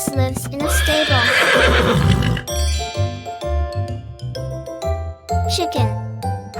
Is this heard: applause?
no